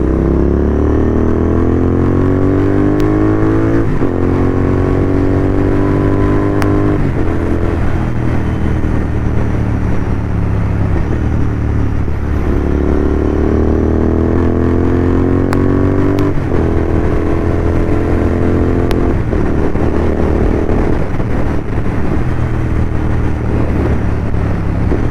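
A motorcycle engine hums steadily while riding through city streets, its drone rising and falling in pitch as the bike accelerates and shifts through gears, continuous and close with no talking.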